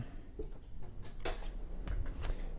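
A gym's back door opens with a few short latch clicks and knocks, close by and moderately loud, over a steady background hum.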